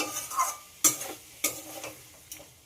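Papaya and potato being sautéed with a water-mixed spice paste in a pan, with soft sizzling and several sharp spoon-scrape strikes spaced through a short stretch, close and fairly quiet, no talking.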